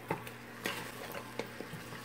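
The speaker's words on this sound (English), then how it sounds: "So I'm stirring the meat." Meat being stirred in a pot for Ghana peanut butter soup, with a few soft scrapes and knocks of a spoon spaced about half a second apart over a low simmer, quiet and close.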